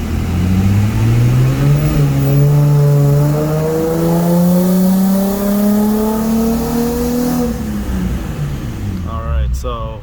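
A 2004 Nissan 350Z with a six-speed and a pop charger revs on a dyno, its loud engine note climbing steadily for several seconds before letting off and dropping away, with a brief voice at the end.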